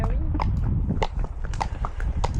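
Horses walking on an outdoor ride, their hooves clip-clopping in a steady uneven rhythm close by, with soft chewing and shuffling sounds mixed in.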